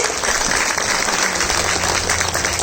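Loud, dense audience applause at an anniversary concert of a Mari folk ensemble, a continuous wash of many clapping hands filling the hall without pause, with a faint low hum beneath.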